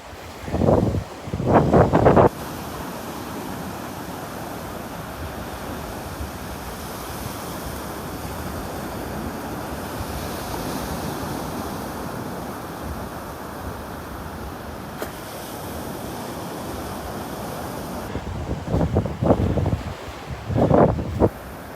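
Wind rushing across the microphone on the beach at Delnor-Wiggins, with a steady wash of surf underneath and loud gusts buffeting at the start and end.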